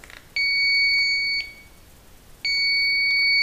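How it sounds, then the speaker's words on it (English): Electronic refrigerant leak detector, used to search a Viking Professional wine cooler for a freon leak, emits two sustained high steady electronic tones, each lasting about a second with a short gap between, clear and close with no talking. "Okay, here's our leak detector."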